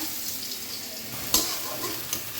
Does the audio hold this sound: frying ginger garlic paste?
yes